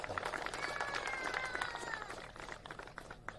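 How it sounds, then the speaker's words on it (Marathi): Applause at a Chhatrapati Shivaji Maharaj memorial groundbreaking ceremony, a faint, distant crowd clapping with a continuous patter and a few tonal sounds over it. "जोरदार टाळ्या वाजवायला आपल्याला हरकत नाही."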